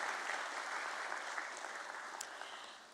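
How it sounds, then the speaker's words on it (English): Audience applause fills a closing bell ceremony for B. D. Industries (Pune) Limited at the BSE, a dense, steady round of clapping that holds for the whole stretch and tapers slightly at the end. "a huge round of applause for the entire team of BD Industries Pune Limited"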